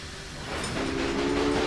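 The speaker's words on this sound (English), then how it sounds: "So we have a train here." A train rolls along in the railroad simulation game Railway Empire, a steady rumble and hiss with a rising tonal hum, loud and continuous without talk.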